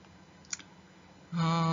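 A computer mouse clicking a select button in a commercial district analysis system: a single faint click early on, followed by a steady tone near the end.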